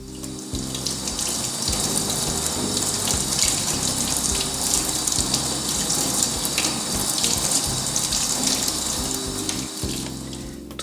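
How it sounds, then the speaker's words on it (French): Felted wool-covered soap rinsed under running tap water, a loud, steady splashing gush into a sink that continues unbroken throughout, close and without speech. "nous allons maintenant rincer la savonnette sous de l'eau claire"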